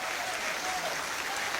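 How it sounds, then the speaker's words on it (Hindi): An audience claps steadily through the whole stretch at a Hindu devotional gathering honoring Hanuman, a dense, even wash of applause with no pauses. "एक बार तालियां अच्छी उठा दें।"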